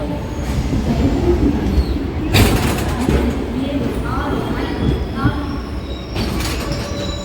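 A DEMU passenger train pulls into Siddipet station, its wheels rumbling and clattering loudly and close with a few sharp squeals, while voices murmur on the platform.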